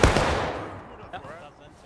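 Civil War cannon firing in the game War of Rights, a single loud blast with a booming burst that decays over a second, with faint distant tones trailing after.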